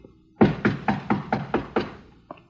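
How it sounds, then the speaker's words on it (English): Knuckles rapping on an office door, seven firm, evenly spaced knocks close up, followed by a short pause and one last softer tap. "Reckon I better knock."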